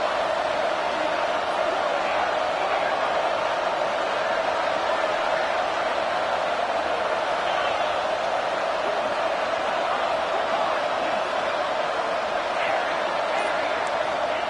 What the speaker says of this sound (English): Guns up, and so is the noise. The crowd electric, trying to help Tech on this 3rd down.